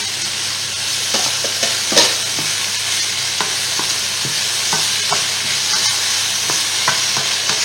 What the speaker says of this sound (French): On ajoute nos poivrons.